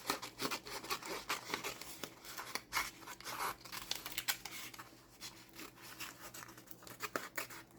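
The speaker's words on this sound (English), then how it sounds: "These are sharp scissors, y'all." Sharp scissors snipping through paper while working on a glue-book picture, a run of close, crisp cuts and crinkles in an irregular rhythm, with no talking.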